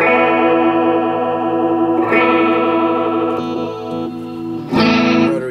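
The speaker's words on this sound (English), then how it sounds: "Rotary drum and horn." An electric guitar played through a pedal's rotary drum effect, a Leslie-style swirling, warbling tone over sustained chords, loud and close, with a brighter strum near the end and no talking.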